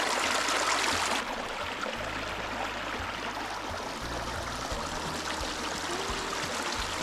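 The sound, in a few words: clear flowing stream water in Lapland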